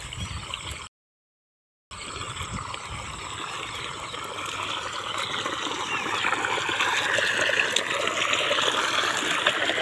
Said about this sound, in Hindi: इतना फोर्स दे रहा है पानी का।